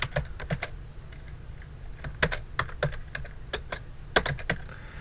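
Close computer keyboard typing, quick clusters of crisp key clicks separated by short pauses over a low background hum.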